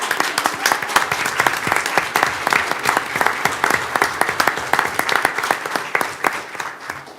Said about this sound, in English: I think he's got some folks here cheering him on tonight